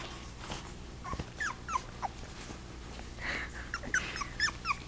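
Four-week-old puppies whimpering and yelping while playing, with scattered high squeaks, small growls and snuffling breaths coming in bursts, close and moderately loud, no talking.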